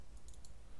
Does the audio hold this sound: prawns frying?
no